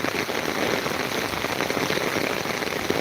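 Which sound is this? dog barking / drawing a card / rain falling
rain falling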